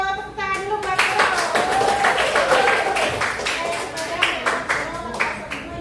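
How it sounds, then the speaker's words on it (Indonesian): A classroom of students clapping together for a classmate, a steady patter of many hands kept up throughout, with voices talking over it. "Tepuk tangan dulu buat Vero."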